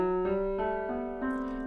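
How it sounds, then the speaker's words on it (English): A C Lydian scale played as a run of sustained synth-like notes, about six evenly spaced tones stepping upward in a bright, clean timbre, alone and steady in loudness. "that's the sound of the C Lydian scale"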